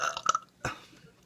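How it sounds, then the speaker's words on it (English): A man lets out a loud, guttural burp heard over a Skype call, one main rasping burst after some softer throat noise, with no talking. "He burps too."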